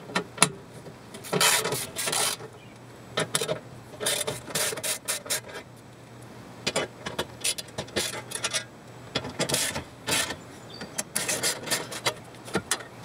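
Bolts, 8mm, being worked loose from a metal shift indicator cover on a car: repeated rasping, ratcheting bursts in short irregular runs, close and fairly loud, with brief pauses between.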